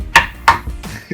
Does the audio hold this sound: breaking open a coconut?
yes